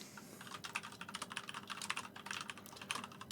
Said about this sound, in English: you're getting used to typing these things